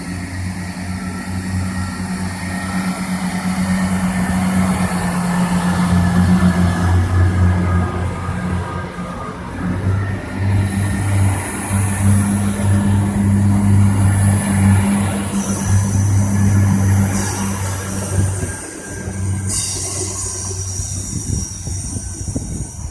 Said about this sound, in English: That train is going to Waterford.